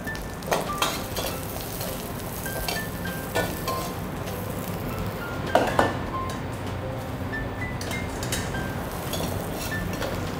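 Garlic and shiitake mushrooms sizzle in a hot wok for Shanghai braised yellow croaker, a steady close frying hiss broken by occasional metal clinks and scrapes of a utensil against the pan.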